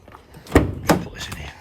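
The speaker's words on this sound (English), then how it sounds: "side opening door, easy to open." Side door of a 2015 Nissan NV400 2.3 dCi van opening, two sharp close mechanical clunks a fraction of a second apart, followed by a short sliding rumble.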